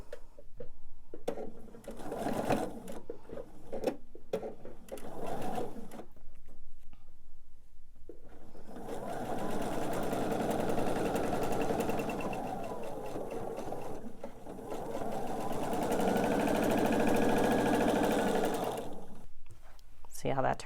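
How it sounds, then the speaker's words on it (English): A sewing machine stitches the length of a seam on a quilt block, its steady, close motor whir running for long stretches with brief pauses, and soft talk in between. "I'm going to go ahead and focus on this and sew the length of this seam."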